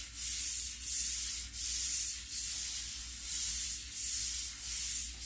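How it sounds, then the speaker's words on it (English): Close-up hand sanding on the lacquered top of an antique oak sideboard, a soft scratchy rasp repeating in even back-and-forth strokes, about eight passes, with no talking. "So I'm just sanding the top kind of lightly here."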